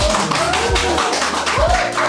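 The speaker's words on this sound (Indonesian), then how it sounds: "Tepuk tangan dong." A small group claps at an Indonesian military training event, a few short bursts of hand claps in quick succession, close and fairly loud, with voices mixed in.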